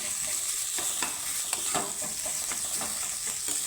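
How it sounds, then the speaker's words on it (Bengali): Potatoes with spices sizzle steadily in a pan for a vegetarian dish, with the scrape and clack of a spatula stirring at irregular intervals through the constant frying hiss. "আলুটাকে আমি সুন্দর করে একটু নেড়ে চেড়ে নেব"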